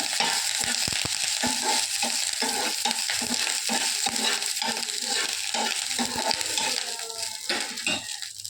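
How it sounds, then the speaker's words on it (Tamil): Curry leaves fry in oil with a loud, continuous sizzling hiss and many sharp crackles and pops, close and alone without any voice. "எண்ணெயில் கருவேப்பிலை சீக்கிரம் ஃப்ரை ஆகிடும்."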